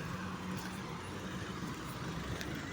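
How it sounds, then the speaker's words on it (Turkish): Steady street traffic passes a person walking outdoors, a continuous low rumble and hiss of cars that runs unbroken and fairly loud throughout, with no distinct single vehicle standing out and no talk. "Şimdi araba sesleri falan da var."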